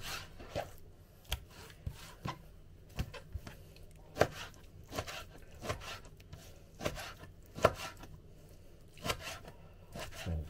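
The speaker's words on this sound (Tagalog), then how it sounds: "Hiwain natin lahat yan mga ka-Berks." Knife chopping ingredients on a board while preparing chicken yakitori and pork dinuguan, with irregular crisp cutting taps spaced a second or so apart, close and fairly quiet, with no talking.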